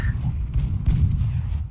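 Heavy mortar rounds in a video game land in a continuous low rumbling barrage of thuds and booms, close and loud, resembling artillery fire.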